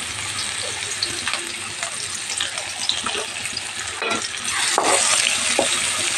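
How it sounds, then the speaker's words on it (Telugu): One large chopped onion sizzles steadily in two tablespoons of hot oil in a kadai, a continuous loud frying hiss with occasional stirring clinks and scrapes, growing slightly louder toward the end. "నూనె వేడైన తర్వాత ఉల్లిపాయలు, పెద్ద సైజు 1 ఉల్లిపాయ తీసుకున్నాను."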